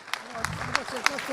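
An audience at a festive town celebration in Caraglio, Piedmont, claps in a loose, rhythmic beat of sharp separate claps, heard under a person talking.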